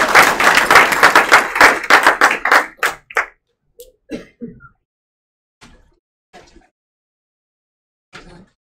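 An audience gives welding students a round of applause: dense, loud clapping for about three seconds that quickly thins out to a few scattered late claps and small taps in a quiet room.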